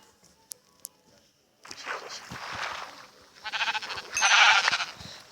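Minecraft sheep bleat in quick wavering cries over a soft shuffling background, after a couple of sharp clicks and a brief silence.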